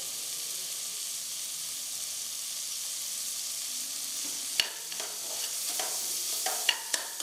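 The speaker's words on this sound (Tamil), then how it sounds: "இது ஒரு 2 நிமிஷம் நல்லா வதங்கட்டுங்க." Tomato and onion sautéing with spices such as turmeric and asafoetida in a pan, a steady close sizzle with a few sharp stirring scrapes and clinks near the end.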